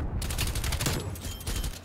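Rapid bursts of gunfire from Call of Duty gameplay crackle in quick succession, loud and dense, filling the short moment without talking.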